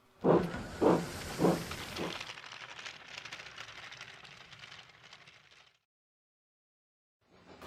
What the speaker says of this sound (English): Steam hissed from her safety valve in an alarming way.